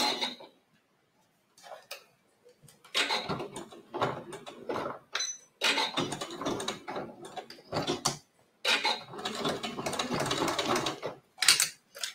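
A domestic sewing machine stitches through bulky Italian leather in short, uneven bursts of close mechanical whirring and clatter, broken by brief stops, with no talking.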